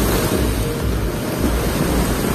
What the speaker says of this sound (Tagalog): Ayan po, yung lakas po ng alon.